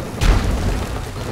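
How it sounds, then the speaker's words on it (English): A grenade explodes in the video game Dishonored with a single loud, close boom that rolls out into a dense rumble over a second or so. "He just threw a fucking grenade at me."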